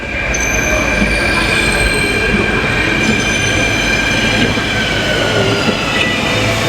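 A Mumbai metro train runs through a station with a steady loud rumble and high metallic wheel squeal throughout, no talking.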